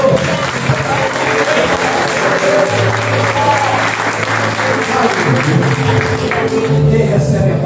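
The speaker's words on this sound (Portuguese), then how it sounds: "Você pode, meu querido, minha querida, erguer as suas mãos aos céus e aplaudir ao Senhor." A church congregation applauds at a worship service, a dense sustained wash of clapping from many hands that fills the room steadily, with faint voices and a low hum of music mixed underneath.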